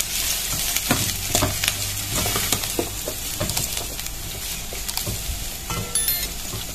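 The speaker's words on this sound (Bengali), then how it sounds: "তো এগুলাকে একটু নেড়ে চেড়ে নিব, ভালোভাবে তেলের সাথে মিশিয়ে নিব।" Onions being stirred in hot oil for a mustard greens stir-fry, a steady broadband sizzle with repeated scraping strokes of a spatula against the pan, close and fairly loud throughout.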